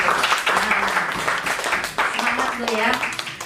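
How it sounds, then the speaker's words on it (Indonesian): Audience applause at a teachers' training presentation on positive school culture: a steady, dense wash of clapping from a group, sustained throughout, with voices talking over it. "Tepuk tangan dulu dong"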